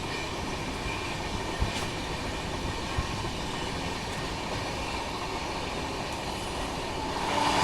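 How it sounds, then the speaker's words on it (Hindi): The Farakka Express rolls by with a steady rumble and faint clickety-clack of wheels over rail joints, holding at an even level throughout. "ये मेरे ख्याल से फरक्का एक्सप्रेस है।"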